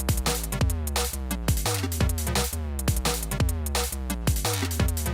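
Thick, dense clap sample in a Playbeat app beat on iPad, hitting in a steady repeating pattern over a layered drum loop with booming low kick and tonal elements, loud and continuous with no voices.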